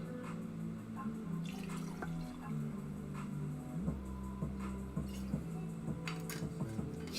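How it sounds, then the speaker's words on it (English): Bulleit bourbon pouring in a small splash into a glass, faint close liquid drips and trickles over a low steady background hum, with no talking. "just a little teeny tiny pour"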